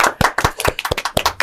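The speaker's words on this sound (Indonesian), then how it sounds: "Tepuk tangan dulu." A small group at a casual meat-themed chat in Wonogiri claps hands, close and loud, with sharp individual claps in a quick, uneven rhythm of around a dozen strikes.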